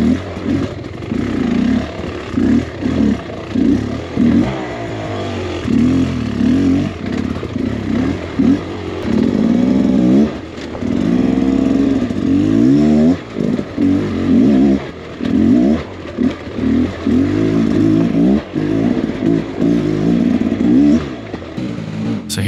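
A Beta XTrainer 300 and a 2023 GasGas EC 300 enduro motorcycle climb a rocky, bouldery riverbed, engines revving hard and unevenly in repeated bursts, close and loud, with rocks clattering under the tires.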